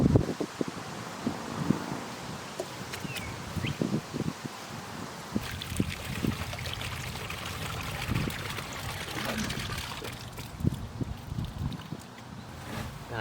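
About 1.5 gallons of clean water is poured into a concrete mix for a gate post outdoors, a steady splashing trickle with scattered knocks and rustles running throughout.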